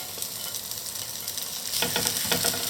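Fajita meat, vegetables and onions sizzling loudly in a hot pan, a dense steady frying hiss that grows louder and busier toward the end as a utensil stirs and scrapes the mix.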